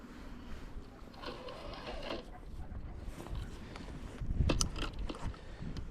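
A fishing reel winds in line on a seaside pier, giving a continuous mechanical whirring and clicking close by, with a few louder rattles near the end.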